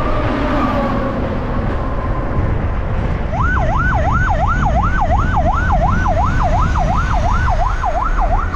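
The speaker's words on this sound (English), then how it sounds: "Slowest ambulance ever." An ambulance siren wails in a rapid, repeating rise and fall, loud and near over steady road and engine rumble in the Philippines.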